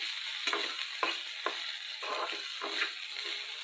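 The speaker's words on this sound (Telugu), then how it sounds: "ఫ్రై అవుతున్నాయండి." Broad beans with curry leaves and seasoning seeds sizzle steadily in hot oil while a spoon stirs them, scraping the pan every half second or so, close by with no talking.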